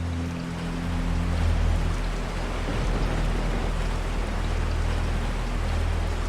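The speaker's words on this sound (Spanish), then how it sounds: "pasó de gotear a formarse una lluvia ligera que, en pocos segundos, se convirtió en un chaparrón en toda regla" Rain falls as a steady, dense hiss of drops hitting surfaces, a full downpour with a low rumble beneath, unbroken and fairly close.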